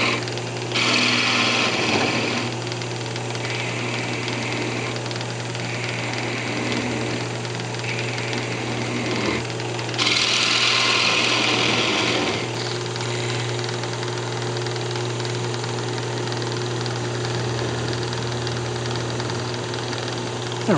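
A wood lathe turns a birdhouse finial down to a point: a steady motor hum runs throughout, with two bursts of harsh cutting scrape near the start and again midway, close and alone.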